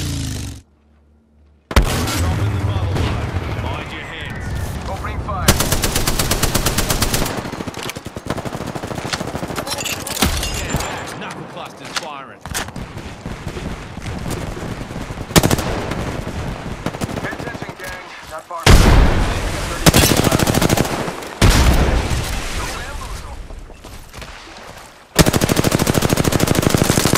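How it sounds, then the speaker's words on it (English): Video game gunfire, long rattling bursts of automatic shots broken by short pauses and a few quieter gaps, loud and close, with some voice chatter in between. "Opening fire."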